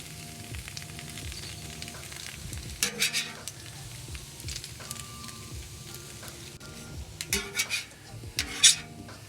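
Bologna frying on a Blackstone griddle, with a steady soft sizzle under scattered metallic scrapes and clinks of a spatula, close by and moderately quiet.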